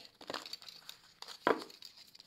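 Tarot cards being shuffled make crisp, close papery riffles and crinkles. A sharp burst near the middle stands out against quieter rustling, with no talk.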